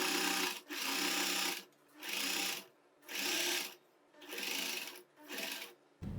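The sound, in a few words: sewing machine stitching a churidar side pocket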